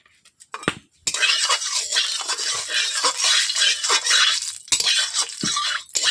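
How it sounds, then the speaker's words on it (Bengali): A spatula scrapes and stirs in a wok of heating oil, brisk metallic scraping and clinking with a soft sizzle, close and continuous after a few quiet taps at the start. "কড়াইটাকে তেল দিয়ে আমি এইভাবে ফ্রাই করে দিচ্ছি।"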